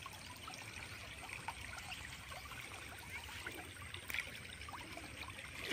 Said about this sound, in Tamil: எவ்வளோ பவரா போகுது வேறு தண்ணி